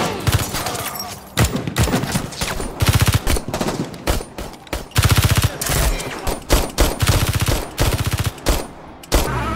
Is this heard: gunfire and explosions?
yes